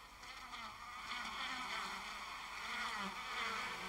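Dense swarm of honeybees inside a hive built of wax comb, a steady, even buzzing drone that holds at a constant level throughout with no voices.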